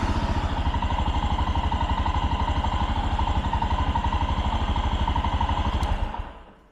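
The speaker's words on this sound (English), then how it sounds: "I'm just gonna show you how sweet and easy this thing starts with the fueling." A 2023 Royal Enfield Himalayan engine runs indoors with a steady, close single-cylinder thump, rhythmic and even for several seconds, then it shuts off and fades to quiet.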